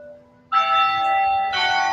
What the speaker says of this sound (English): Excuse the bell.